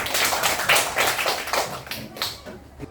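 Schoolchildren in an Indonesian classroom clap for a classmate after a magnet demonstration, a burst of quick, close, uneven hand claps that continues and thins out toward the end.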